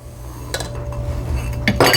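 A spoon scrapes and clinks against a pot while stirring sugar into evaporated milk for chocolate mint fudge, with a few sharp metallic taps close up over a quiet background.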